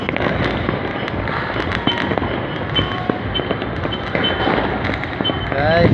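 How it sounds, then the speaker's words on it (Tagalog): New Year fireworks display popping and crackling in a dense, continuous barrage, with sharp bangs and faint voices in the background. "Lapagan na ng fireworks."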